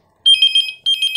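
A Beetel B17 landline phone rings at its high volume setting: two close, loud bursts of rapid electronic trilling warble, separated by a short gap, with no talk.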